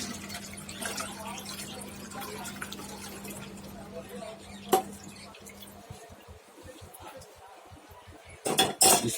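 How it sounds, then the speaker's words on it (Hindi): Giloy water strained into another pot in a home kitchen, a light trickle and drip with clinks of metal vessels, a sharp clank in the middle and louder clatter near the end, under a steady hum. "इस पानी को फिर हम एक दूसरे बर्तन में छान लेते हैं।"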